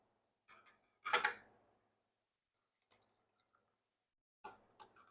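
Pickle brine for bread-and-butter pickles is dipped and poured into a canning jar, a short splashy gush near the start followed by a few faint drips and a later brief pour, close and quiet with no talk.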